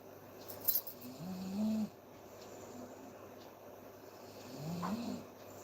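A sleeping man snoring nearby in a quiet room at night, two slow, low rasping snores several seconds apart over a faint background hum, with a brief light clink early on.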